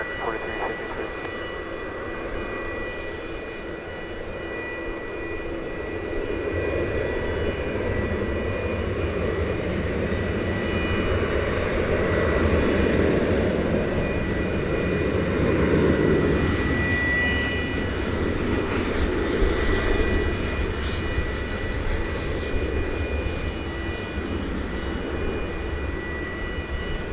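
An airliner at Dallas Fort Worth Airport roars from a distance, a broad, steady engine rumble and whine that swells and fades over nearly half a minute, with a faint voice audible at times.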